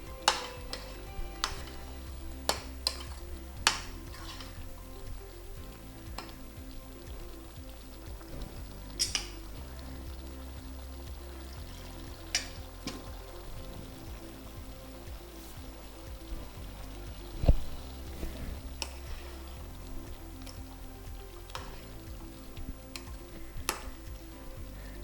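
A pot of vegetable kurma simmers quietly with soft bubbling and a faint sizzle, broken by occasional light clinks of a utensil against the pan.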